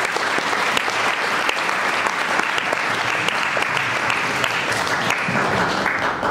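A church congregation applauds in dense, steady clapping that holds at an even loudness for several seconds, with no break and no voices standing out.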